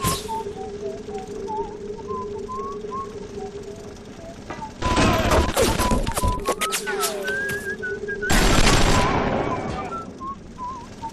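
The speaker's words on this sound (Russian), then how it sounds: "Кто свистит?" In the Bioshock video game, someone whistles a wavering tune of scattered notes. Two loud bursts of harsh noise, like gunfire, break in partway through, then the whistling returns.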